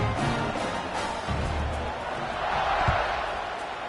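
A stadium crowd roars in an NCAA football video game during a deadlocked fourth quarter before a kickoff, a dense, steady wash of cheering with a commentator talking over it.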